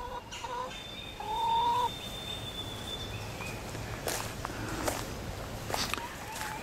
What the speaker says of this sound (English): Yeah, little brown chicken.